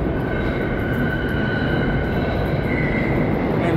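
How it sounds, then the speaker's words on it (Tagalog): A train pulls into a station, a steady loud rumble of rail cars with faint wheel squeal and a high tonal whine running throughout, with no voices. "Yung train yan ang sakyan ko."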